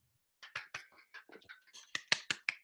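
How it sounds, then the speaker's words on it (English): A small audience claps at the end of a spoken talk: about a dozen crisp, separate hand claps, thin and fairly quiet, picking up slightly toward the end, with no voices over them. "Everyone wants to applaud."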